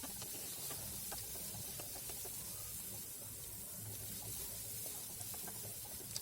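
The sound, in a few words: chopped onions frying in oil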